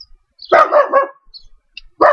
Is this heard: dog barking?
yes